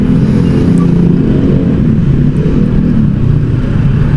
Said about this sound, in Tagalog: May maingay na motor, narinig nyo ba?